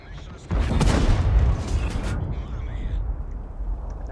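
A heavy tank cannon fires in World of Tanks as one loud booming blast, followed by a long rumbling decay of background battle noise.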